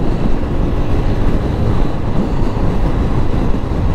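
Loud, steady broadband roar of motorcycle exhausts running with open mufflers at a Mio owners' club ride, rumbling continuously without breaks and with no voices over it.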